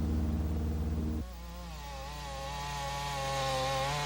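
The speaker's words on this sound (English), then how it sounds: "Chainsaws cutting swaths across the thick trees for pulp." Chainsaws cut through thick trees for pulp in a dense southeast Alaska forest, a steady high buzzing engine drone that shifts pitch as the saw works, continuous and moderately loud.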